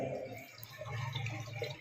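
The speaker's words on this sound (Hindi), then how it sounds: "इसका बीच में जो होल है उसके माध्यम से पानी ये पूरा बाहर निकालेंगे" Water drains steadily out of a Jacuzzi bathtub through the central drain hole, a continuous close gurgling wash of liquid with light dripping, running throughout.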